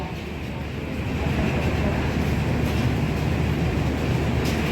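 Steady rumble and rattle inside the carriage of a new panoramic passenger train on a trial run toward Cianjur, swelling slightly after the first second and holding a continuous, close, even roar with faint clatter throughout.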